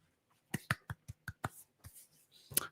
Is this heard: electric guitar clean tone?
no